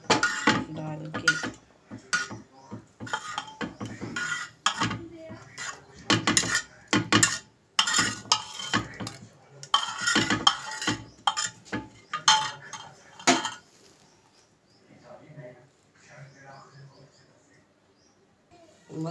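Homemade kheer being served from a pot into several dishes with a spoon, giving repeated close metallic clinks and scrapes of steel utensils in a home kitchen, while someone talks over the clatter.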